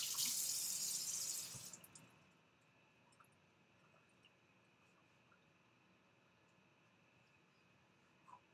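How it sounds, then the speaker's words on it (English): Water runs from a kitchen tap for a couple of seconds while hands are rinsed, a steady hiss that cuts off abruptly, leaving near silence with a faint click at the end. "Rinse off my hands."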